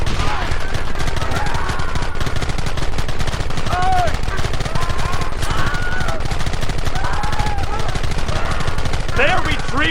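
Red Dead Redemption gunfight with dense, continuous rapid gunfire close and loud throughout, while voices shout over the shooting.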